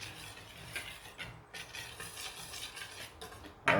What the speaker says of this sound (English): we're just gonna whisk this together